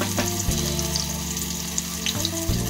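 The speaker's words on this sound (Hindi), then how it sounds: "अब हम इसमें धीरे धीरे एक एक करके बैंगन डालेंगे।" Stuffed eggplant pieces drop into hot oil in a pan and sizzle loudly and continuously, with a dense crackling hiss and small shifts in intensity as more pieces are added.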